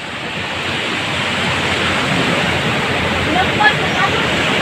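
Large storm waves during Typhoon Odette pound a coastal village in a steady, loud roar of surf and wind noise that fills the whole stretch without pause.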